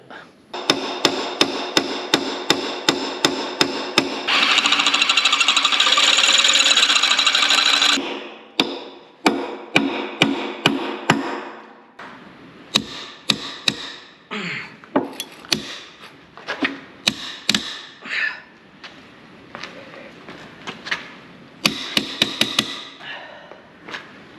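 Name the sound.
hammer and chisel striking stuck bolts on a Rodag HT 200 tracked carrier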